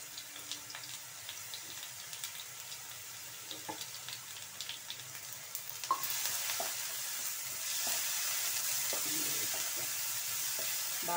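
Ginger, garlic and onion paste frying in a pan, giving a soft close sizzle with scattered scraping clicks of stirring, then a louder, fuller hiss that holds steady through the second half, no voices.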